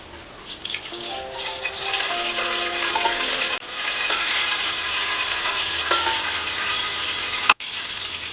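Whole spices fry in about a cup of hot oil for a white chicken karahi, making a constant close hiss with scattered clicks and scrapes, then a single sharp knock near the end.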